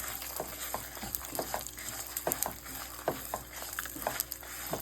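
Coconut, dry coconut and fenugreek fry in a pan with roasted gram for moringa podi: a steady soft sizzle under repeated sharp spatula scrapes and clicks as the mix is stirred, close and continuous, with no talking.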